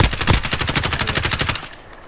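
Rapid automatic gunfire from Call of Duty on Rebirth Island, a steady burst of close, loud shots lasting about a second and a half before cutting off into quiet.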